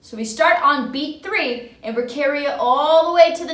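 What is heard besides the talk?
No everyday noise stands out behind the speech.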